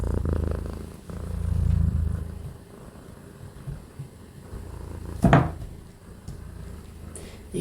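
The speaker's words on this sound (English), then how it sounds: "You can skip ahead if you don't want the purr sessions." A cat purring in a low, steady rumble, with a brief louder knock or rustle partway through and soft handling noises around it.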